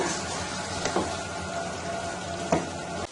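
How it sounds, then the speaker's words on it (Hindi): Chicken korma fries in a pan over medium heat with a steady, close crackling sizzle and a few brief stirring scrapes. "अब हम इसको 2 से 3 मिनट तक इसी तरह मीडियम आंच पे इसको हम भूनेंगे इस तरीके से ताकि ये अच्छी तरह भून जाए"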